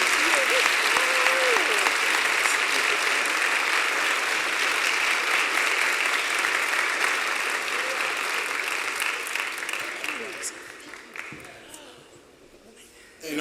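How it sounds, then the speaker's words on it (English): Sustained applause from an audience at a Morehouse College student government event honoring an award recipient, a dense, steady clatter of clapping that holds loud for about ten seconds, then thins and fades, with a voice beginning at the very end. "Let's please give her another round of applause."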